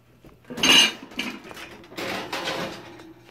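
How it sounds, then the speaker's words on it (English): A brownie pan of black bean batter clanks and scrapes as it slides into an oven, a close metallic knock followed by softer rattling and a door-like clatter, with no talking. "I'm going to just put it in the oven here."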